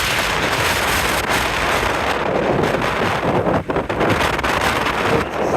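Strong gusting wind at night on a ski slope during high winds, a loud, constant roar buffeting the microphone, with one brief dip partway through and no talking.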